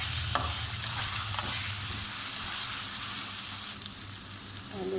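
Multani aloo karahi cooking as potatoes and spices fry in hot oil while being stirred, giving a steady close sizzle with scraping stir strokes that carries on throughout with no talking.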